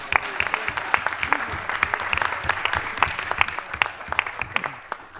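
A crowd at a political party event applauds party president Macarena Rubio with sustained clapping, crisp individual claps standing out over the steady wash, with faint voices beneath.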